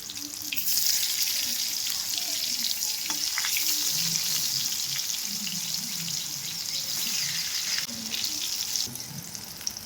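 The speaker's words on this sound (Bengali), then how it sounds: "বেগুনগুলো একটা একটা করে ভেজে নেব।" Eggplant slices coated with turmeric and sugar fry in a pan with a steady, moderately loud sizzle that runs throughout, and a watery hiss sits underneath.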